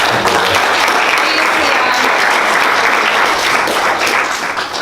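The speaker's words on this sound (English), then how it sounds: "Please give Chris a round of applause." Sustained audience applause fills an interview event, loud and steady throughout, with dense clapping tapering slightly at the end.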